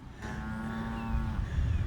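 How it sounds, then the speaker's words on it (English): A cow moos in a field where cattle answer a tractor's noise, one long, steady, drawn-out low call close by over a low rumbling background. "the tractors are making its noise, and the cows are answering back"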